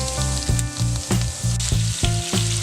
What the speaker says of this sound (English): You want to get that high heat on there to kind of sear in that flavor.